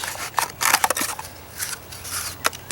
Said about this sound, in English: I'm not gonna bore you watching me play with scissors.